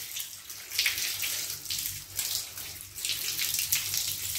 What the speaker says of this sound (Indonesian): bergantian air mengalir dari ujung jari